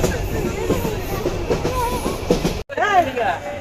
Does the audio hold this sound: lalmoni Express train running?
yes